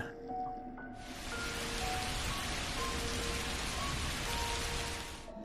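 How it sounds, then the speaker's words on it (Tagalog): Heavy rain pours steadily, a dense continuous hiss that swells in after a quiet start and stays loud throughout, with faint tonal sounds underneath. "Sobrang lakas ng ulan."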